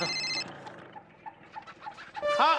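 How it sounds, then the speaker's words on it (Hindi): An electronic phone ringtone plays in short melodic bursts, fairly faint at first and louder at the end, with no talking. "भैया फोन आया, फोन।"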